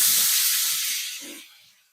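A loud hiss of frying, like onions hitting a hot pan, sizzling steadily and then fading away; onions frying in a frying pan after pork fat was fried.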